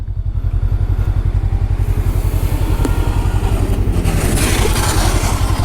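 A Voge 500 R motorcycle engine under way, a close, steady pulsing thrum with rising revs toward the end and wind noise, no one speaking.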